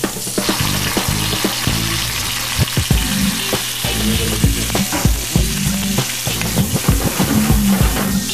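Tomato added to a pan over raised heat, frying with a loud, continuous sizzle, rhythmic stirring scrapes and knocks throughout, close and prominent with no talk.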